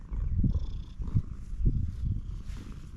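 A cat purrs close by in a garden, a low rhythmic rumble pulsing roughly every half second to second, steady and fairly soft with no talking.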